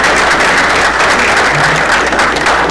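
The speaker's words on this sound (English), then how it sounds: "Please join me in a round of applause for Morris." A Rotary club meeting audience applauds a newly presented president with loud, dense, continuous clapping filling the room throughout.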